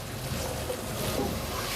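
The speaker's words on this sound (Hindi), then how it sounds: "तो थोड़ी सी तेज़ आंच पे मैं इसको भून रही हूँ।" Onions fry on high heat in a pan for Punjabi chicken gravy, making a loud, continuous sizzling hiss with no talk.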